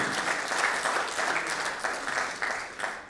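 Audience applause at a sports awards ceremony in Slovenske Konjice: a steady wash of crowd clapping with a loose rhythmic pulse, tapering at the end.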